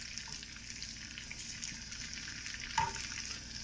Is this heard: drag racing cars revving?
no